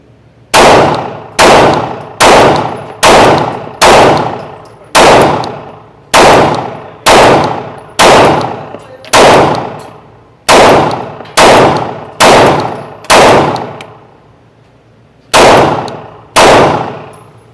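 A Glock 45 pistol fires at a target in a run of about sixteen loud, sharp shots, mostly evenly spaced with ringing decay after each and a brief pause before the last few.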